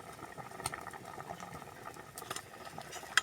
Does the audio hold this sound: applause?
no